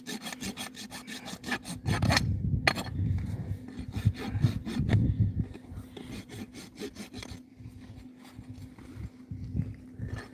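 A farrier rasps a freshly trimmed hoof on a half-draft horse, giving steady repeated scraping strokes, close and fairly loud, with brief pauses between bursts.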